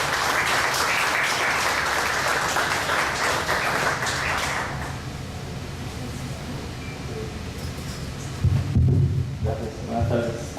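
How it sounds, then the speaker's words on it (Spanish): A seminar audience claps warmly to welcome a speaker at a legal rhetoric seminar. Dense applause fills the room, then thins and tapers off over the second half. "el uso de la voz al maestro Luis Plasencia, no sin antes recibirlo con un caluroso aplauso."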